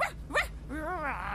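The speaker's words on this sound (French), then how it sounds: "C'est le chien!" A dog gives two sharp barks followed by a drawn-out, wavering whimper, loud and close, with no talking over it.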